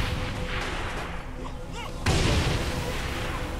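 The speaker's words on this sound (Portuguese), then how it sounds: "Mais uma explosão." Explosions boom in the video game Saints Row: Gat out of Hell, a dense rumbling barrage with a sharp, louder blast about halfway through, mixed with game noise and a voice talking over it.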